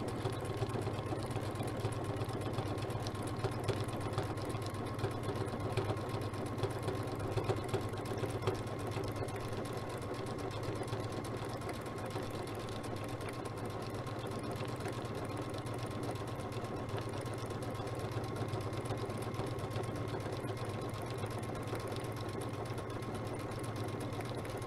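A sewing machine fitted with a circular sewing attachment runs steadily, stitching continuously with a constant mechanical whir and rhythmic needle hum throughout, close and even.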